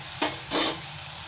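Bottle gourd kofta balls frying in hot oil on a gas stove are turned over, giving two quick close rustling bursts of sizzle over a low steady hiss.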